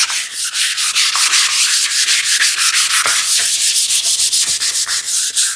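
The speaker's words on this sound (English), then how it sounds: "The only reason for sanding is to" Hand sanding of a wooden tabletop, a close, loud, rhythmic rasping with quick back-and-forth strokes repeating steadily and no voices.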